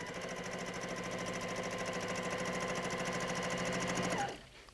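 A sewing machine quilts a quilt in a fast, even, rhythmic stitching chatter, close and steady, then stops abruptly near the end.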